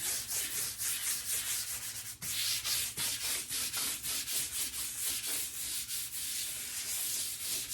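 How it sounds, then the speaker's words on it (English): Hand sandpaper rubs lightly over a wood finish in steady back-and-forth strokes, a close, dry rasping rhythm that repeats evenly with one brief pause, alone without speech. "I showed you how to do the sandpaper by hand. That's what I'm going to do here."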